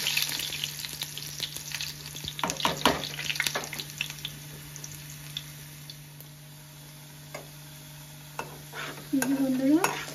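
Bitter gourd and potatoes fry in oil while a utensil stirs them, scraping and knocking against the pan in scattered bursts over a low, continuous sizzle, with no voices.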